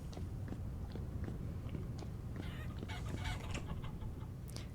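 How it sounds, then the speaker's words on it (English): Chickens in the video game Vintage Story cluck in a busy, steady stream of short calls over constant low background noise, with brief sharper chirps scattered throughout. "We have a family of chickens."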